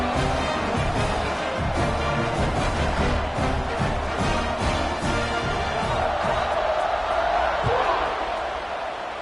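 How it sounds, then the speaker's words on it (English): A stadium crowd in a college football video game buzzes steadily after a touchdown, a dense, loud roar with thumping bursts layered over it, filling the whole stretch. "this crowd is buzzing after that last score"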